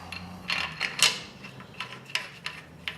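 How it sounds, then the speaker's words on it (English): A torque wrench tightening an oiled main bearing cap bolt on a Pontiac 455 engine, a few close, faint ratcheting clicks and creaks spaced over a few seconds. "And I'm gonna torque this down."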